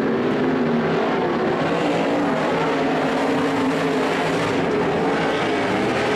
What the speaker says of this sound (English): Kelsey in that all black sprint car.